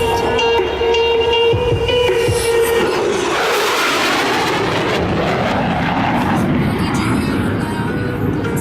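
A military jet making a high-speed pass at an air show, its loud engine roar building and sweeping overhead, then a sustained rumbling wash that lingers after the pass.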